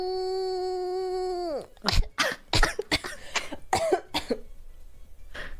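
A person imitates a baby, first holding a high, steady cry-like tone, then breaking into a rapid run of short, close coughs and throat-clearing bursts.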